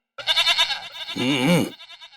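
A person in a Hindi TV comedy scene imitates a goat, letting out a loud, wavering, nasal bleat that rises and dips in pitch over about two seconds.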